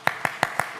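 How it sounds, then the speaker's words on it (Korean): A church congregation claps four times in quick, even rhythm during a Sunday worship service, crisp and fairly close, each clap short and bright. "그 하나님께 박수를 칩시다"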